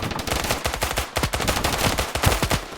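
Rapid automatic gunfire from a shooting video game, dense bursts of machine-gun fire rattling continuously and loud throughout, with no talk over it.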